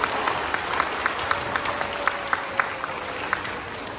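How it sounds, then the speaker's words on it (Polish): Concert audience applauding new performers, a steady wash of many hands with sharper individual claps poking through at a moderate, slightly distant level, no talk over it. "Ogromne brawo oczywiście dla naszych nowych artystów."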